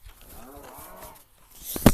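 A single low moo from a cow in a video game, fairly quiet, followed by a sharp loud click at the end.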